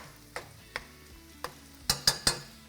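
Venison meat browning in a pan as a utensil stirs it, with faint sizzling under six distinct scraping knocks, three spaced apart early and a quicker, louder cluster of three near the end.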